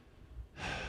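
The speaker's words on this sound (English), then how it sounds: "You can hear me breathing." A person breathing close to the microphone: a soft, quiet intake followed by one louder, airy exhale like a sigh, alone in a brief moment.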